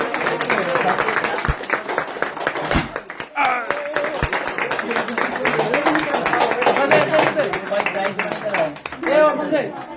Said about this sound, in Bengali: সবাই হাততালি দেবা